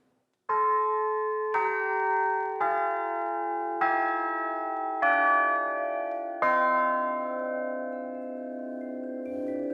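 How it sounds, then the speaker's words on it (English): Six brand-new church bells in a Birmingham foundry strike one after another, each a loud, close, clear ring whose tone drops step by step, the last left to hum and fade with no talking. "I can sound 6 of them if you like, so you can hear the difference."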